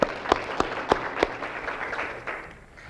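Audience applause for event sponsors at a real estate seminar, a few sharp claps up front settling into a brief, moderate round of clapping that fades toward the end.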